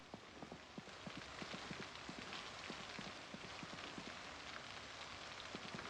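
Rain falls steadily in the zombie survival game Project Zomboid, a dense patter with scattered sharper drops tapping nearby, moderately loud and continuous, with no voices.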